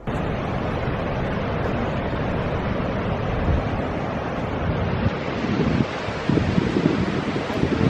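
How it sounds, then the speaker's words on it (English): Steady roaring rush of the Upper Falls of the Grand Canyon of the Yellowstone, broad and constant, with gusts of wind buffeting the microphone toward the end. "Now this is the upper waterfall of the upper Grand Canyon of the Yellowstone"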